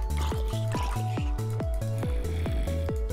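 Water pouring from a bucket in Minecraft, a series of gurgling, splashing bursts repeating steadily about every half second, close and fairly loud with no talk over it.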